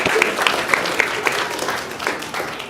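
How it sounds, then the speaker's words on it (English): A live comedy show audience breaks into applause, a dense steady wash of many hands clapping with a few cheers and whoops over it, fading slightly toward the end. "Give yourselves a round of applause."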